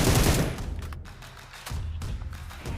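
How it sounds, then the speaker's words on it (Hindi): Rapid gunfire in the video game PUBG Mobile, a dense burst of shots and thuds at the start followed by further volleys of loud, close game weapon fire. "यहाँ से हमारे ऊपर फायर होने लगा"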